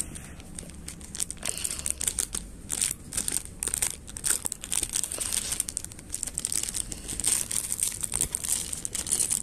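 Plastic Lego packaging crinkles and crackles as it is cut open with scissors, a close, busy stream of rustling and snipping without talk.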